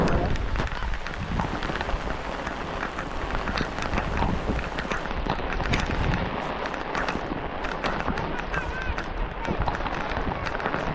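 Heavy rain pours down steadily on a farm in the Konkan, a dense, continuous wash of sound close by with some wind buffeting the microphone.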